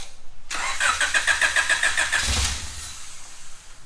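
A 1995 Honda Civic Si engine cranks steadily for about two seconds with a fast, even starter rhythm, then catches briefly with a rough low burst and fails to start, all close by with no talking.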